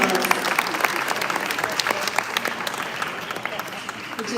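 An audience gives a big round of applause at the Samhita 2022 event: dense, steady clapping from many hands that carries on throughout with a slight crowd murmur.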